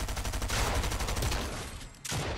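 A Fortnite shotgun blast bursts out loud and close, followed by a brief rattle of gunfire.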